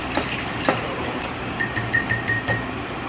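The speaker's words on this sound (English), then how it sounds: "we're going to do that with just a little bit of ice into the glass" Ice cubes clink against a glass while an Old Fashioned cocktail is stirred, a series of light, irregular taps that quicken into a steadier rhythm, close by and with no talking.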